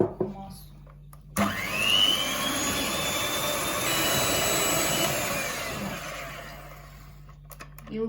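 A loud, steady electric mixer whips egg whites with citric acid and sugar at high speed for several seconds, starting abruptly and winding down near the end, with no talking.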